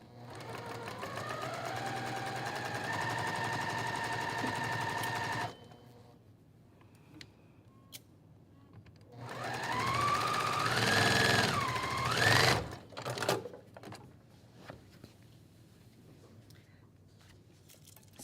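A sewing machine chain piecing quilt fabric runs steadily for about five seconds with a slightly lengthened stitch, loud and close, then stops; after a pause it whirs again in a shorter, rising burst before falling quiet.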